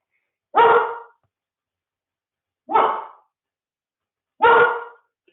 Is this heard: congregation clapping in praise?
no